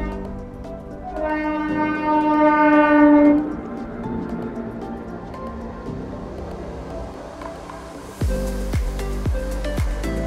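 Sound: train passing with horn

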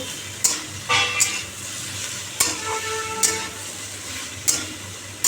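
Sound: frying onions and snake gourd in a pan

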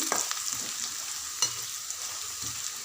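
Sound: stirring and frying spices and garlic chili powder in a pan

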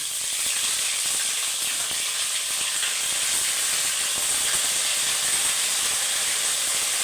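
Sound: ginger paste frying in tempered oil

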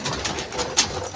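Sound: pigeons cooing

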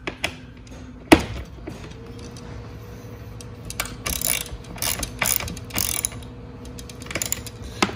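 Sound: ratchet tightening bolts on a Venom Motorsports mini jeep

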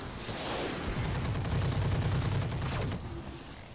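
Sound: mech weapons firing in video game Roguetech

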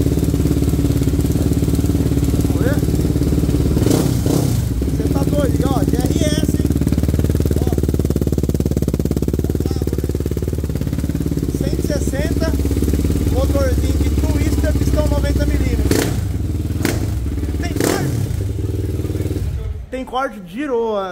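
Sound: 160 Start motorcycle with 410cc engine revving

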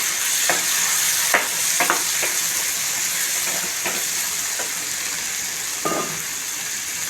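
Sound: chopped tomatoes frying in chicken gravy

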